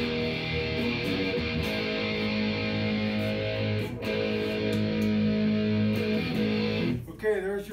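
A distorted Jackson Warrior electric guitar with Seymour Duncan and Dimebucker pickups sustains thick, buzzing chords, close and loud, with a brief break midway and a wavering bend at the end.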